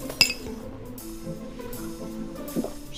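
Glasses clink once, sharp and bright, in a toast over drinks, followed by a faint second touch against a quiet room background.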